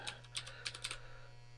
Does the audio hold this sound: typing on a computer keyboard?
yes